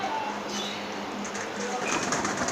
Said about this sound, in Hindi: देखें कितने प्यारे कबूतर